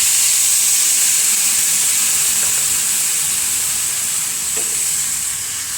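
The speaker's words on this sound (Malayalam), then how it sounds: "കുറച്ച് വെള്ളം ചേർത്ത് കൊടുക്കാം" A steady, loud hiss of liquid sizzling in a hot pan, continuous and close, with a faint scrape of stirring near the end.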